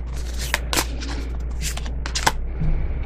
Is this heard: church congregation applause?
no